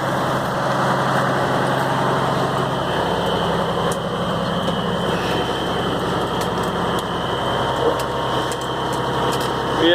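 A 1970 M35a deuce and a half military truck with its engine running steadily close by, a low rumbling idle with a fine ticking pulse and a faint whine on top, unchanged for the full ten seconds.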